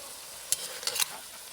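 Chicken for Tagalog-style tinola is stirred in a pot, giving three short scraping clinks over a faint steady sizzle, close and alone.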